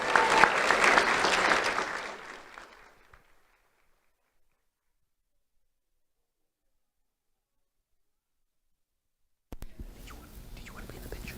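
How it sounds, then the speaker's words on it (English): An audience applauds an award winner at a monthly school good-deeds awards event, a loud burst of scattered clapping that fades out within a few seconds, followed by silence and then quieter room noise. "Round of applause for Aurelia Collins."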